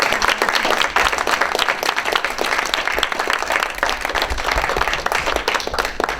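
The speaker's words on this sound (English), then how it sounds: "I think that's deserving of a round of applause." A crowd at a press conference gives a loud, sustained round of applause, dense and close, holding steady from start to finish.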